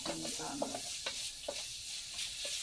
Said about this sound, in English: the stir fry, I don't want mushy vegetables